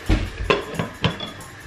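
A lid clatters onto a metal pot of boiling Bengali fish curry, giving several quick clinks and knocks of metal on metal, close and moderately loud.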